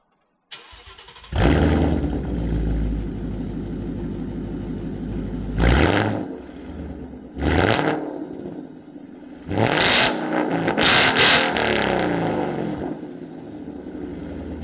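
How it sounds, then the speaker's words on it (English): A 2015-2017 Ford Mustang GT fitted with a Roush axle-back exhaust fires up with a loud burst, idles with a deep rumble, then snaps through several sharp, loud revs close to the exhaust. "give you guys a quick, couple of revs"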